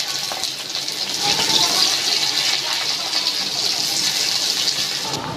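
Onion and two green chillies sizzle in hot mustard oil in a wok, making a loud, steady hiss close by with faint talk underneath.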